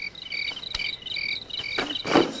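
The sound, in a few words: crickets chirping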